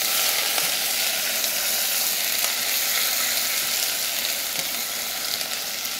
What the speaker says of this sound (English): So we're gonna brown our onions really well.